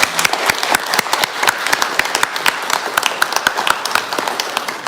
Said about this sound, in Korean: 오늘 신부님을 앞으로 모시도록 하겠습니다. 박수 쳐주시기 바랍니다.